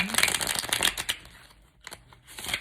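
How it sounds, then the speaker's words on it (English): A deck of tarot cards is shuffled by hand in a quiet room, giving close, continuous riffling and flapping bursts with a brief pause before a final flurry. "I'm getting called to do one more shuffle."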